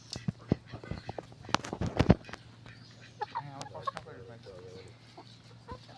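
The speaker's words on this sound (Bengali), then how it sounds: "আমরা আজকে সেই মুরগিগুলো দেখানোর জন্য আপনাদের চলে আসছি" Tiger breed chickens cluck and call at a house, with sharp clucks and short calls coming in bursts at moderate distance against a quiet background.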